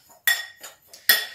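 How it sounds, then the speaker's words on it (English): A spoon clinks against a bowl while stirring oatmeal mixed with gelatin, three or four bright scraping knocks close by with short pauses between them. "So I'm just going to stir that up."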